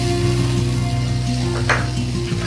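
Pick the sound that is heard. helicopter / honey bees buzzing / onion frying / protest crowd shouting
onion frying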